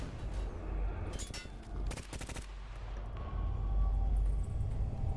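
Grenade and gunfire in S.T.A.L.K.E.R. GAMMA during a raid on Pripyat and the Chernobyl plant: a few sharp bursts of shots and a bang, then a rumbling aftermath. No one speaks.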